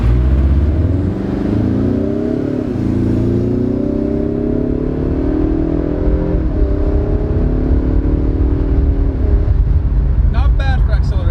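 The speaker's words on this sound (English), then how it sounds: "Let's see what this baby can do off a light." A 2019 Ford Mustang EcoBoost with a turbocharged four-cylinder, set to sport mode, pulls hard from a stoplight, its engine droning loudly as the revs climb, drop at a gear shift and climb again, with a voice briefly heard at the end.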